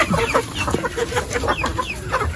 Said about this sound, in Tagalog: Ito yung magiging future hen.